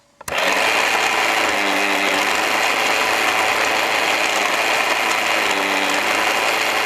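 Motor of a Doctor Who Dapol console playset toy switching on and running, a loud, steady, grinding mechanical whir with a gear-like ratcheting texture that continues without a break.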